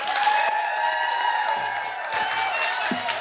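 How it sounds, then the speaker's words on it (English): A live event audience breaks into warm applause for a speaker coming on stage, dense clapping with some cheering and whoops, fairly loud and close, with a voice briefly heard over it. "please give Stacy a very,"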